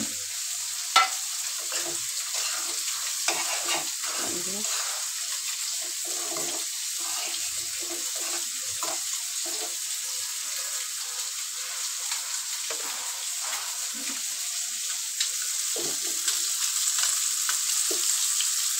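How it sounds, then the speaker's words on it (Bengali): Rohu fish pieces fry in a pan with a steady, hissing sizzle, broken by occasional pops and crackles, close and continuous with no talk. "এই যে মাছ ভাজতেছি, রুই মাছ দিয়া"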